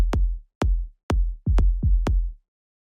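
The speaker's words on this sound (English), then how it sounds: "This is how the offbeat kick sounds in this track." An offbeat kick drum from a melodic house track repeats as six deep, punchy thumps with sharp attacks and short low tails. The hits come in an even groove, with two overlapping near the end, and play alone in dry, close sound.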